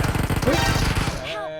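Rapid bursts of shotgun fire in PUBG Mobile rattle loudly in quick succession, then cut off into a brief electronic ringing tail.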